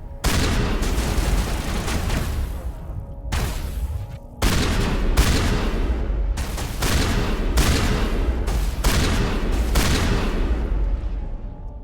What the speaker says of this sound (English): I don't think dueling it with shotguns at this range is really the answer